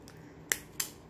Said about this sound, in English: so I'm going to snip it here